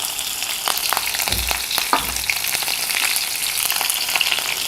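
Mustard seeds and green chillies fry in hot oil for spicy Kolhapuri misal, giving a steady close sizzle with scattered sharp crackles and pops throughout. No one speaks.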